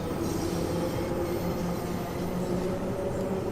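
A London Underground Bakerloo line train in Train Sim World 2 rumbles along loudly and continuously, with wheel noise and faint squealing over a steady low drone, no voices.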